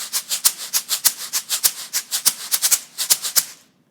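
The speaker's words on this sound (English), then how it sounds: "You can also use your rain stick, like our other percussion instruments, like a giant shaker." A homemade rain stick shaken like a big percussion shaker gives about twenty crisp, rhythmic rattling shakes in quick even pulses, close and fairly loud, with no voices.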